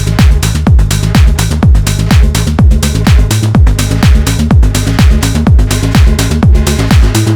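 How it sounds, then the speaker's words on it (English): A creepy saw wave synth built for tension in a tech house track, layered over a steady four-on-the-floor kick with pitch-dropping thumps and busy hats, looping loud and tight with no voices. "This saw wave really helps building the tension"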